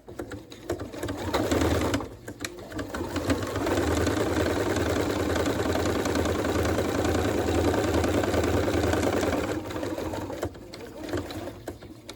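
Running steadily for most of the stretch, a sewing machine stitches a fabric American flag, its needle chattering at a brisk, even pace with brief stops near the start and end.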